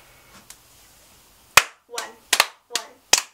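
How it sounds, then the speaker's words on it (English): Two people play a fast hand-clapping game, and five or six sharp, close claps ring out in a quick, uneven rhythm after a quiet start with faint background murmur. "we have a clapping game for you"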